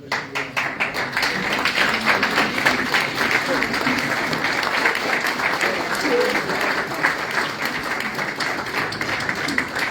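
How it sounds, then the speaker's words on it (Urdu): Members of a Pakistani community audience in Brescia stand and applaud at an ambassador's speech event, a full, unbroken rush of clapping from many hands with faint voices beneath it. "اپنی نشست سے کھڑے ہو کر تالیاں بجا کر"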